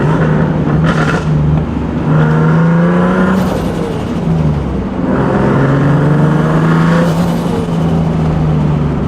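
A turbocharged car engine revs loudly up close with an aftermarket steering wheel fitted, rising and falling in several strong pulls with a steady rumble between them.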